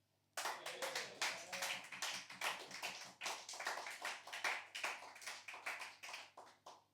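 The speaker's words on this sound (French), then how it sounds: "Mesdames et messieurs, ayez l'amabilité, la capacité, la fiabilité, la possibilité, la respectabilité de vous applaudir" An audience at a slam poetry show claps for itself, a dense burst of many hands starting abruptly and continuing steadily, close and lively, with no talking.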